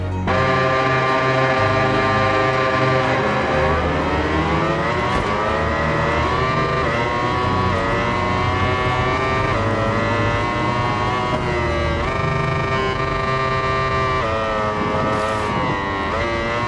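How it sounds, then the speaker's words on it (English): Several 990cc four-stroke Yamaha racing motorcycle engines idle and burble together on the grid before the Australian Grand Prix at Phillip Island in a racing game, a steady continuous drone with shifting pitch throughout. "Engines fired up, riders ready, just a few moments to go and another Australian Grand Prix will begin here at Phillip Island."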